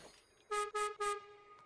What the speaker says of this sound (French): La bouffe et le cuir. Et le klaxon.